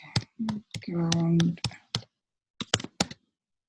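Irregular clicks of typing on a computer keyboard, a few sharp, close keystrokes spread out over a few seconds, with a voice briefly speaking among them.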